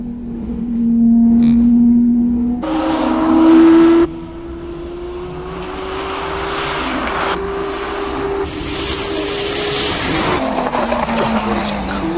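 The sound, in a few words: race car accelerating in a hillclimb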